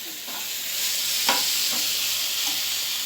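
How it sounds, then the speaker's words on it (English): Steady sizzling of onion and tomato frying in a pan, a continuous hiss with a few soft stirring scrapes, close and fairly loud, no voices. "So that's called as a frying"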